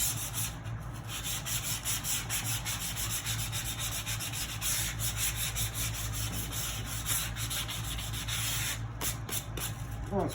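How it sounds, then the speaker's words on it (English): Steady scratchy rubbing of sandpaper by hand on a wooden carry-all, a continuous close-up abrasive sound with no voices. "This needs a little bit more sanding here."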